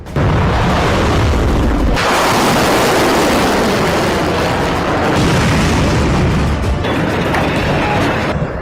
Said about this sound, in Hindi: पहली बार डांसिंग मिसाइल से प्रहार।